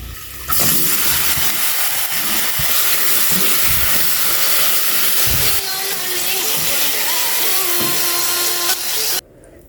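Pieces of pisang tanduk banana frying in hot oil, giving a loud, steady sizzling hiss that starts abruptly, runs for several seconds with a few faint tonal noises, then cuts off.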